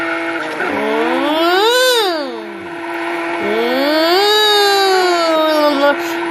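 Car drifting with the engine revving hard, two long rising-and-falling engine sweeps with tire squeal, loud and close inside the cabin.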